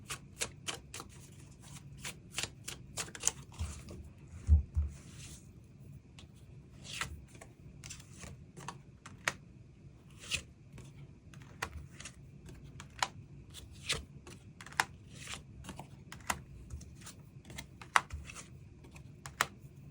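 Tarot cards being shuffled and drawn by hand, a dense run of soft riffling flicks and crisp slaps, close and fairly quiet, with no talking over it.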